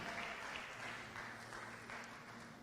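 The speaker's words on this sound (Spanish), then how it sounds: "Denle un aplauso fuerte a Cristo" A church congregation applauds during an evangelistic service, a steady wash of clapping that runs throughout at moderate level with no talk over it.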